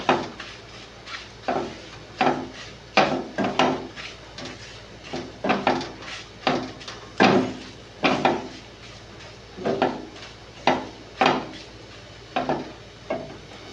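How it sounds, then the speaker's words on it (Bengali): A spoon stirs bread pakora batter seasoned with black pepper and coriander powder in a bowl, giving a steady run of close scraping clinks and knocks about twice a second, with no talk. "এবার এটা আমি ভালো করে নেড়ে নেব"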